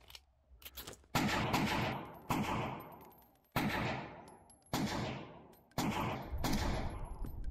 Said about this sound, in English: Let's get these handguns going.